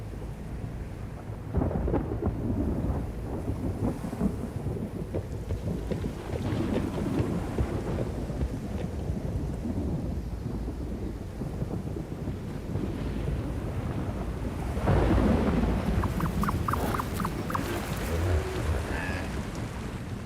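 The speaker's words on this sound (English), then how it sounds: "And to top it all off, a storm is approaching." An approaching thunderstorm, with a steady low rumble of thunder and the hiss of rain and wind, heavy and continuous, swelling louder near the end, and no voices.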